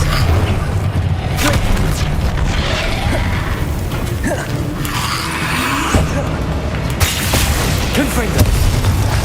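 Spell-casting in the video game Hogwarts Legacy, with the Expelliarmus disarming spell among loud, dense combat effects: whooshes, skids, booms and mechanical clatter in quick succession, with voices calling out over the din.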